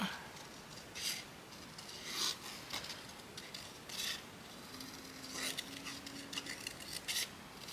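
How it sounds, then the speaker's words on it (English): Intermittent raspy, gritty bursts like a handheld power sander working a surface nearby, coming in short repeated passes over a faint background hum. "It sounds like a sanding machine thing, handheld sanding thing."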